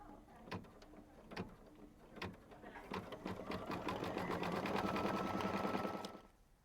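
A domestic sewing machine stitches a center detail on a quilt block, starting with a few slow single stitches and then building into a fast steady whirring run that stops abruptly.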